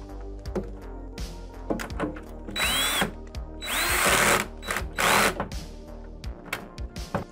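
A power drill tightens a nut on a pinball topper mod, with short whirring bursts that rise and fall in pitch, several longer loud runs in the middle, and small clicks and taps between, close and without talk.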